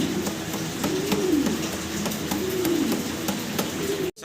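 Fancy pigeons coo in soft, low rolling phrases over a steady noisy background, two swelling coos standing out at moderate loudness, with no voices.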